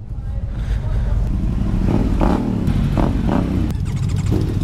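A Yamaha T7 motorcycle engine runs steadily while being ridden on a road, a loud continuous drone with slight rises in revs and wind rush, with a voice heard faintly over it.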